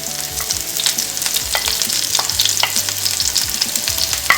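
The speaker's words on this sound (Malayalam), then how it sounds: "ഇനി നമുക്ക് ഇഞ്ചി വെളുത്തുള്ളി പച്ചമുളക് ഇതെല്ലാം ഇട്ട് കൊടുത്ത് വഴറ്റണം" Ginger, garlic and green chilli sauté in hot oil with mustard seeds and cumin for a vada pav filling: a loud, crackling sizzle right up close, with quick popping bursts and stirring throughout.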